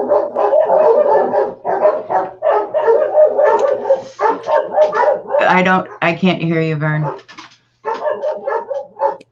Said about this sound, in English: There's some dogs barking.